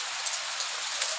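Heavy rain pours steadily onto surfaces at a resort, a dense, even hiss close by with scattered louder drop impacts and no voices.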